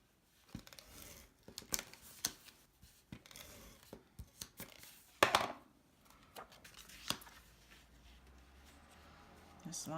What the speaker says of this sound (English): snip off anything that's remaining outside